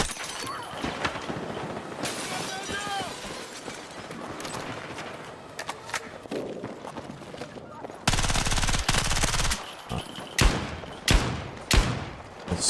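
Light machine gun in a shooting video game fires long, rapid automatic bursts, loud and dense, with a sharper stretch of sustained fire near the end; the odd background voice comes through.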